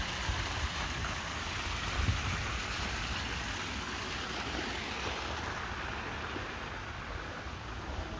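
Steady, broad rush of flowing water from a backyard pond water feature, even and continuous throughout, with no voices and a soft, peaceful texture.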